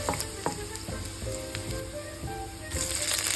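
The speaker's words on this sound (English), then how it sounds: "let's heat oil in a pan and then we saute minced garlic" Minced garlic sautés in hot oil in a pan, a bright continuous sizzle with crackling pops and occasional utensil taps, close and fairly loud.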